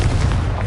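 A fiery blast from the Confringo spell in the Hogwarts Legacy video game, a dense booming burst that fills the whole brief moment with heavy low rumble.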